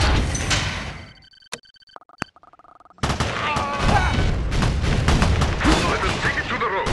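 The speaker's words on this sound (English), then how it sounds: "Launching a barrage." An artillery barrage launches in a video game skirmish against USA forces. Dense booming fire gives way to a quiet stretch with a few sharp clicks and tones, then a heavy, continuous rumble of blasts returns.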